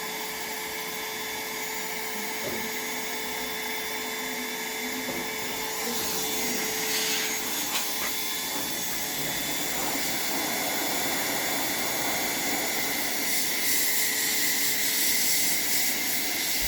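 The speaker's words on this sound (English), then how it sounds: "So just melt the plastic and stick it together and build up the shape that the bumper used to be." A hot-air plastic welder melts plastic rod to repair a smashed bumper on a Land Rover Discovery 2 Td5, a loud, continuous blowing roar with steady hiss and hum throughout.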